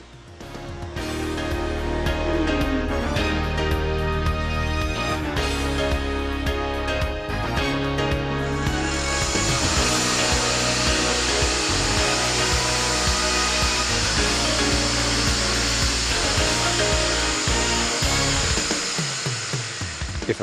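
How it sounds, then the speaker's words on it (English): A diamond dry-cutting core drill bores steadily with a loud, continuous motor whine and grinding hum that shifts in pitch midway and runs for about twenty seconds without talk. "With the application of a diamond dry cutting drill,"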